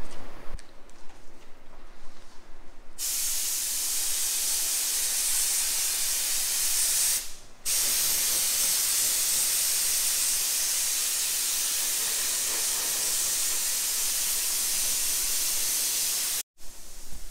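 A steady, forceful hiss of aerosol adhesive spraying onto a car headliner runs continuously for long stretches, broken by a brief pause and a short gap near the end.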